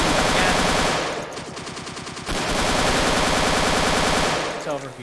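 Sustained heavy machine gun fire in the RMC-14 game, a dense, loud, rapid stream of shots that dips briefly in intensity and then continues before tapering off.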